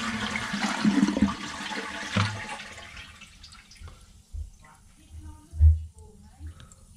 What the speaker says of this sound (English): We're full of water, but let's flush.